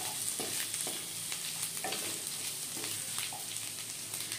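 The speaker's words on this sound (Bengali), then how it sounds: "আদাটাকে একটু নেড়ে চেড়ে নিয়ে ভেজে নিতে হবে" Ginger frying in oil in a wok, a continuous close sizzle broken by repeated scrapes and clicks of a stirring spoon.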